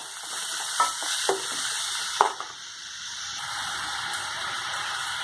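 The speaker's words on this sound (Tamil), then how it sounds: "வெங்காயம் நல்லா வதங்கட்டும்." Onions sautéing in oil with cloves in a pan for a tomato side dish give a steady, moderate sizzle. A few sharp utensil knocks come early, then a quieter, even frying hiss with no talking.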